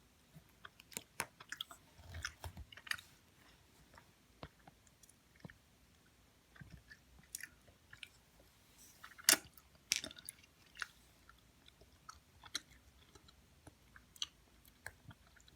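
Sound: chewing Harry Potter marshmallow-flavour jelly beans

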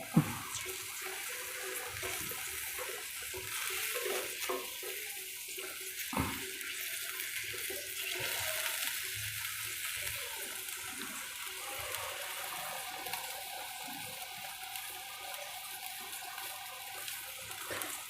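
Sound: water boiling in a pan

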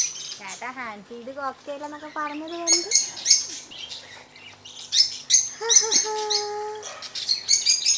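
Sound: cockatiel

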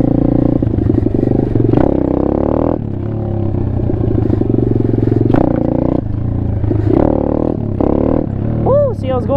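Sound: Apollo RFZ Chinese pit bike engine during wheelie

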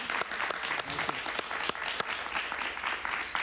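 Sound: audience applause for a singer

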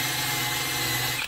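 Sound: wire wheel on a drill

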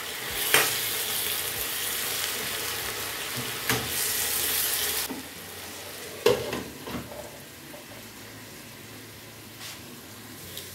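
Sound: onions frying in a pan while being turned

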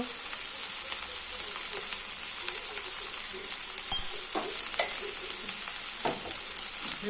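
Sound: spices being sautéed with katla fish head

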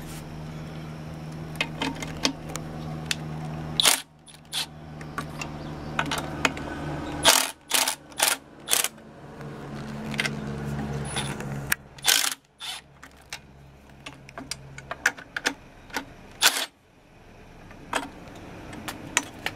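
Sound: loosening nuts on a Yeti 2 pitching machine motor mount

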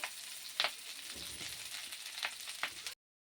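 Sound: moringa leaves frying in oil, sizzling

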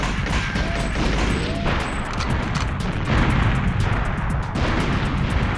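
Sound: explosion from detonating a mine in a video game

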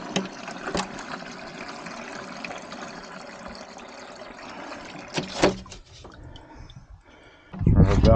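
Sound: water flowing through an outdoor water line

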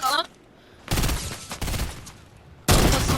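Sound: gunfire in the video game Fortnite

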